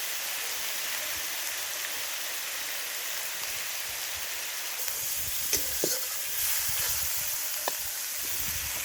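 Turmeric and chilli powder fry in oil in a pan for a prawn-stuffed pointed gourd dish, giving a steady, even sizzling hiss throughout with a few faint stirring taps in the later part.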